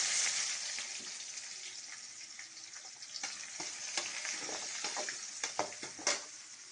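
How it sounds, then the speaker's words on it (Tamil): Onions for an egg curry fry in a pan with garlic, giving a constant close hiss and sizzle. Scattered clicks and stirring scrapes sit on top, with no voice. "வெங்காயம் பொன்னிறமாகும் வரை வதக்க வேண்டும்."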